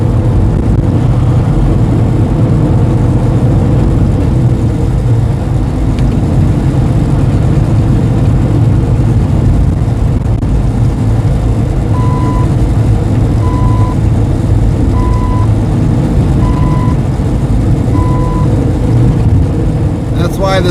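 A Kenworth T680 semi truck engine drones steadily while driving, a loud low rumble filling the cab throughout, with a short run of regular beeps partway through and people talking over it.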